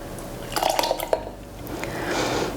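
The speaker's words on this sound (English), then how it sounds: "Next we have our balsamic vinaigrette. This is 3/4 of a cup. Just pour that right in there." Balsamic vinaigrette, three quarters of a cup, is poured into a farmers market summer salad in a bowl, giving soft wet splashes and drips that settle into a gentle liquid trickle, close and fairly quiet, with no talk.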